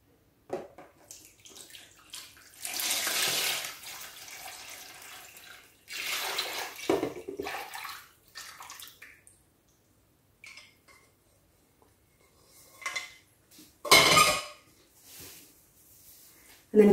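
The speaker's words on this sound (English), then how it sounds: "After you've allowed the mixture to cool, carefully pour it into your container." Wine and sugar moth-bait mixture poured into a container in several short liquid bursts with pauses between, close and fairly quiet, with some faint clinking of the vessel.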